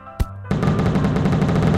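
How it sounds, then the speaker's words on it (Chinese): A firecracker goes off in the video game Whack Your Boss: one sharp crack is followed by a dense, continuous burst of rapid popping that runs steadily to the end. "这是一个鞭炮呀"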